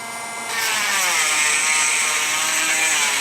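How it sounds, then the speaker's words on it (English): A Dremel rotary tool spins up after a short pause and grinds steadily as it cuts a slot in a metal bracket, with a close, high, continuous whine. "To do that, I'm just gonna use the Dremel."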